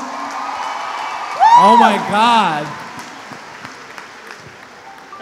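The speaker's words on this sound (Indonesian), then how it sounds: "Tolong beri tepuk tangan sekali lagi." An audience breaks into applause and cheering, a broad roar of clapping and whoops while a nearby voice exclaims loudly over it before the crowd noise fades down.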